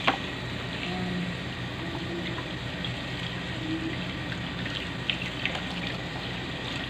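Tap water runs steadily into a kitchen sink while food such as carrots is washed for chicken curry, a continuous close splashing stream with a few light knocks and no speech.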